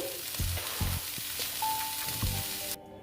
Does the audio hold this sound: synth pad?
no